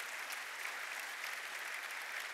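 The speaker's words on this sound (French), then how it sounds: "Des applaudissements pour vous soutenir." Dense, even audience applause at a French-speaking gathering, sustained and fairly loud with no voices over it.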